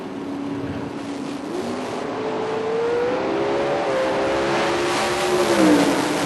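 A 1973 Chevrolet Vega wagon drag racing at the strip, its engine note climbing through rising gear pulls, steady and loud-ish from mid distance, with no voices over it.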